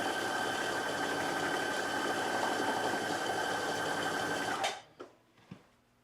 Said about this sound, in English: So I'm going to make a basting stitch just to have a nice clean 5/8 of an inch seam allowance.